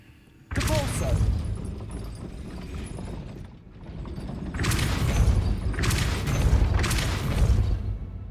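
A Depulso spell is cast in the game Hogwarts Legacy: a sudden loud burst opens a dense magical rush, then heavy whooshing surges swell and pulse through the rest of the clip.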